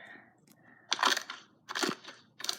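Crunchy slime squeezed and squished close up, three short crackling bursts separated by brief quiet gaps, soft but crisp.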